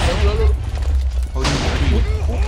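Explosions in Minecraft during a Lucky Block One Piece battle: a steady roar of blasts and rumbling booms, with a fresh burst about halfway through, under excited talk and game music.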